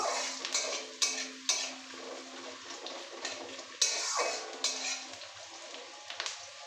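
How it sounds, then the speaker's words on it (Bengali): Onion is stirred and lightly fried in a pan for an egg chicken tadka, with a soft sizzle beneath repeated sharp scrapes and clinks of a spatula against metal, close by and intermittent. "পেঁয়াজটা হালকা একটু ভাজা করে নেব।"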